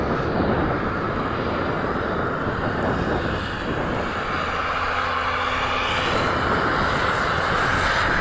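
A dollar store foam board RC airplane with a newly swapped, more powerful motor flies in strong wind, its engine a steady droning whine buried under loud, constant wind buffeting on the microphone.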